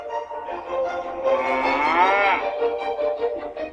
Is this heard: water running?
no